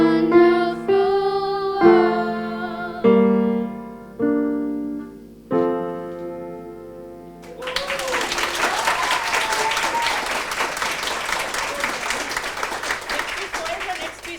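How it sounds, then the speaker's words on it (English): A piano plays several slow, ringing notes that decay one after another, then an audience breaks into sustained applause that carries on steadily to the end. "I told you all don't clap."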